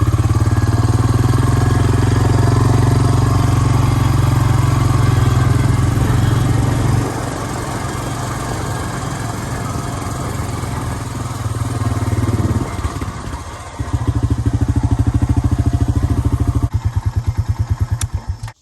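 A motorcycle or four-wheeler engine runs close by on a rural 10-acre property, a loud steady rumble that dips around the middle, roughens briefly, then returns strongly before cutting off at the end.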